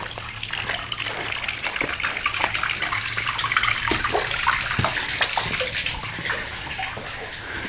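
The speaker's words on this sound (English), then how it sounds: "This, most evocatively, is the old wash house and spring." Water flows and splashes steadily at an old village wash house spring in a ruined earthquake village on Kefalonia, a continuous close gushing trickle with no voices.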